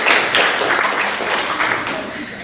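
A crowd at an Odissi dance debut event breaks into sustained applause after a speech, a dense, even wash of many hands clapping at close range, with voices faintly mixed in.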